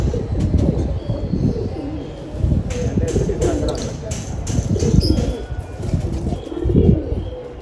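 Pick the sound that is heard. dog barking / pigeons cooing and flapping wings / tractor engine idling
pigeons cooing and flapping wings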